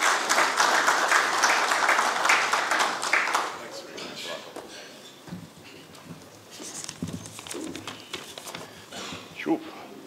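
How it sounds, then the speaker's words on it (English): A breakfast meeting audience applauds to welcome a bank executive, a loud burst of clapping for about three seconds that fades into scattered claps and a speaking voice. "Let's welcome him with a round of applause"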